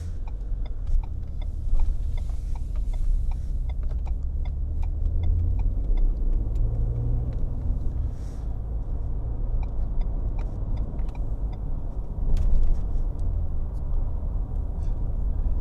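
Steady car engine and road noise from inside a moving vehicle, a continuous low rumble with faint ticking, likely a turn signal, and no talking.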